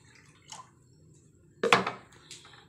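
Water poured into a clay pot for matka chai, heard as a small splash followed by a louder, brief gush and one more quick splash, close by with near silence between.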